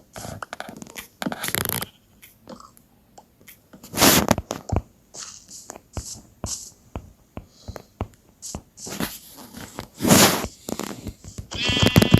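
Sheep in the video game Minecraft bleat repeatedly in loud, close, wavering cries spread across the stretch, with quieter game sounds between them.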